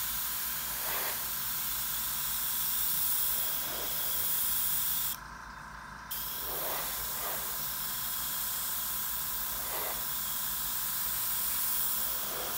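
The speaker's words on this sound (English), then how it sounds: "I'm spraying right at the edge of the tape." A steady airbrush hiss sprays paint along masking tape on a 1/48 scale model jet, continuous, broken by one brief pause midway before the spray resumes. Close and even, with faint soft knocks in the background.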